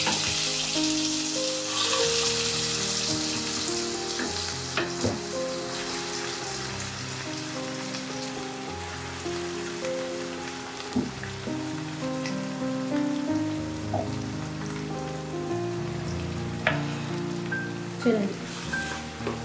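Saag greens going into hot tempering oil: a dense, rain-like crackling sizzle fills the scene, loud at first and then settling into a steady fry with occasional clatter, and no speech.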